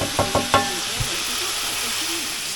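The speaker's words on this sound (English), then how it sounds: "Stir fry tonight. With mahi from a neighbour." Mahi fillet and locally caught prawns stir-fry in a hot pan with rice, opening with a few sharp utensil clacks against the pan, then settling into a continuous close hiss.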